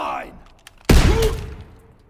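A single loud shotgun blast from the Call of Duty: WWII video game in a close-quarters fight, a sharp boom with a ringing tail, preceded by quieter game sounds.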